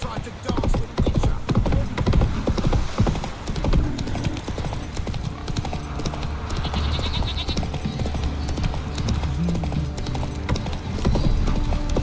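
Roach, the horse in The Witcher 3, trots with a steady, close clip-clop of hooves that runs throughout, with other animal sounds and talking mixed in underneath.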